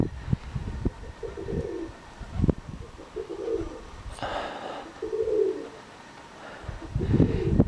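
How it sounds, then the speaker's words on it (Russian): Pigeons cooing outdoors in a village on a very windy day, several soft repeated coos in short phrases with wind and handling noise between them. "Ну, все голуба, ребята."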